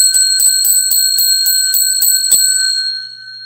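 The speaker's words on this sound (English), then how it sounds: "This is the bell warning." A warning bell rings in a quick, even series of about eight loud, bright metallic strikes over roughly two and a half seconds, then the ringing decays away.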